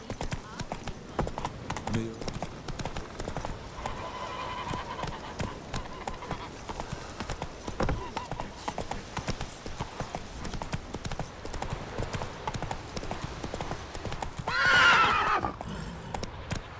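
Roach the horse gallops in The Witcher 3: Wild Hunt, her hooves beating a steady, rapid clip-clop under game ambience. A neigh rises near the end, and a voice is heard briefly.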